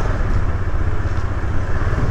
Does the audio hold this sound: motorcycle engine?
yes